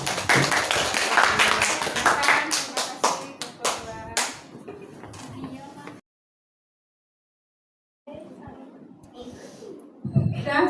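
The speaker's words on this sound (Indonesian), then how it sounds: "Beri aplaus." A classroom group breaks into brisk, dense applause for several seconds that fades out, then after a silent gap scattered claps and chatter return, with a teacher's voice nearby.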